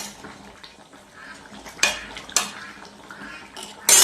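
Pots and utensils clatter in a home kitchen while chicken is being cooked, with soft scraping and stirring broken by a few sharp metallic clanks and a loud clatter at the end.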